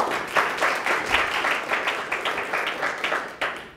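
Audience applause welcoming Stefanie Mueller to a Design at Large seminar talk, a steady wash of many hands clapping throughout, fairly close, with no voices over it.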